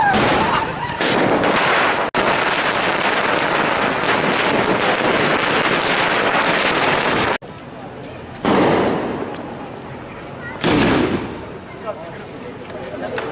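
Firecrackers burst in dense, loud, crackling volleys at a TRS party celebration around the party office and the Ambedkar and Indira Gandhi squares, with abrupt stops and renewed bursts, and voices mixed in.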